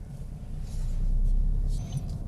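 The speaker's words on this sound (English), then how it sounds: "the car wants third gear. We can hear it slightly louder." A car engine running in second gear and revving as it needs a change up to third, heard as a low, steady drone that swells louder in the middle and then eases slightly.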